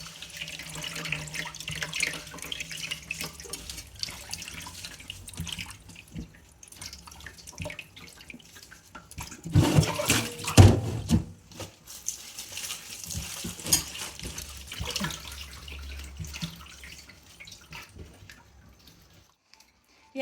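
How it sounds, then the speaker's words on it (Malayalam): Karinochi leaves rinsed under a running tap in a sink, a steady close wash of flowing water that swells with splashing and handling midway before thinning out near the end. "ഇനി ഇത് നമുക്ക് വീണ്ടും നല്ലോണം കഴുകാം"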